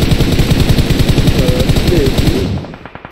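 A loud, sustained automatic-weapon spray rattles in rapid, even bursts during a competitive shooter match, running nearly continuously before cutting off and fading at the end.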